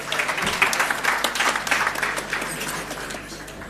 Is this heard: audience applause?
yes